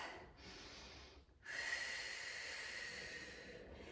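Strong, forceful breaths are pushed out during a foam rolling session: a long breathy hiss, a short pause, then a louder sustained exhale, close to the microphone with no talk.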